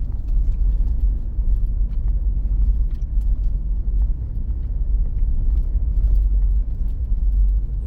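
A car rolls along a rough, muddy forest road at night, its engine a steady low rumble with bumps and rattles rising now and then, heard from inside the vehicle.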